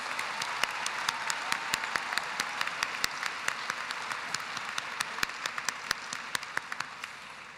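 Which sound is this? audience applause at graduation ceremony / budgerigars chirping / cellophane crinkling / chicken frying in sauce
audience applause at graduation ceremony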